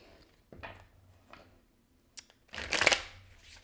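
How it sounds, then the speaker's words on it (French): Cards are drawn one by one from a deck during a love-themed card reading: two light slides, a small tap, then a louder riffling swish of cards, heard up close and alone. "Je vais sortir quatre de mes cartes."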